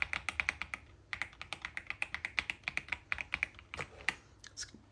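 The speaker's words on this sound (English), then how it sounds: "It's got that typewriter type sound, those creamy keys, and it's fully customizable." Keys clack steadily on a budget creamy mechanical keyboard with a typewriter-like sound, a brisk run of close, soft, rounded taps with a short pause midway.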